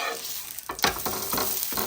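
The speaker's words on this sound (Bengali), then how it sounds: "এই পরোটা কিন্তু আরও তাড়াতাড়ি হয়ে যাবে পুরটা কিন্তু আস্তে আস্তে ভাজতে হবে" A potato-stuffed triangle paratha fries in a pan: a close, moderate sizzle is broken by a few scraping, stirring strokes as it is moved around.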